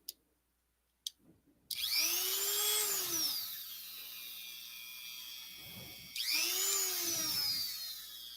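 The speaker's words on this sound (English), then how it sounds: "I think I've used this Dremel tool like maybe 10 times since I bought it." A Dremel rotary tool, used while repairing headphones, whirs up after a couple of clicks, its pitch rising and falling as the load changes, then briefly eases off before revving again, close and steady with no talking.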